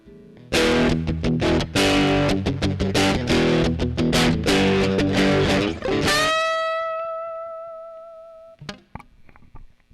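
An electric guitar switched to a coil-split single-coil pickup plays through an MXR Power 50 overdrive pedal. Loud, gritty rhythmic chord strumming ends on a sustained ringing chord that fades away, with a couple of light notes and string noise after it.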